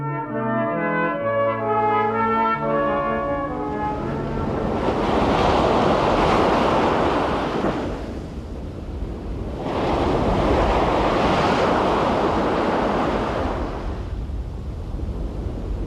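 Sea waves break on the shore at Sant Pol, rolling in as two loud, washing surges with a constant windy roar between them, no voices present.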